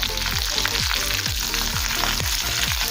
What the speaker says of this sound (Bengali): 1 সেকেন্ড সময় নিয়ে তড়কাটা একটু ভেজে নেবো